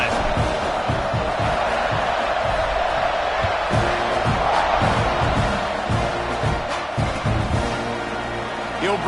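Football stadium crowd roaring and cheering during a kickoff at a live game, a steady loud wash of noise with thumps and shouts, heard under a commentator's voice.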